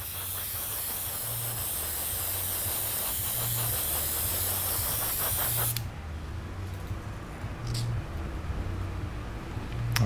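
A spray can hisses steadily as color shift paint is misted onto a test spoon, a close, loud jet that cuts off about halfway and leaves quieter room noise.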